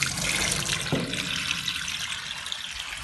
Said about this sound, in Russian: Вот сейчас начинаю в лодку наливать воды